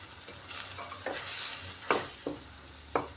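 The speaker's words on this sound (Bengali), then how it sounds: "এভাবে একটু কষিয়ে নিতে হবে এখন মশলাটাকে।" Ground spices such as coriander and red chilli powder being sautéed in hot oil with a splash of water, a steady sizzle under repeated scraping and stirring strokes of a spoon in the pan.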